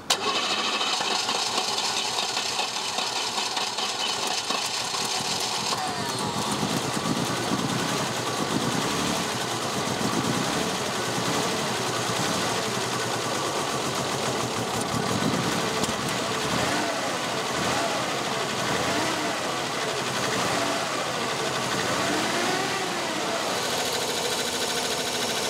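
A barn-find BMW car engine turns over and catches, then settles into a steady, loud idle running far too high that continues without a break.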